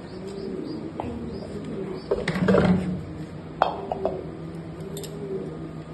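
Racing pigeons coo softly and continuously in a loft, with low murmuring calls, a few brief chirps, and light clinks and taps from handling nearby.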